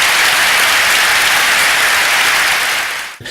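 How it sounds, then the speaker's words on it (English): A dense, loud wash of audience applause greets guest Shashi Tharoor on stage, sustained and even before it tapers off abruptly at the end. "Give him a big round of applause before we get started."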